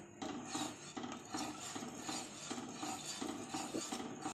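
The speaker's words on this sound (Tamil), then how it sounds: "இந்த கருப்பு கவுனி அரிசியை நம்ம நம்பர் ஆட் பண்ணிக்கிட்டு நல்லா கிண்டி விடணும்" A spoon stirs thick black kavuni rice halwa in a pan, making quiet, rhythmic rasping scrapes roughly twice a second, close by and with no talking.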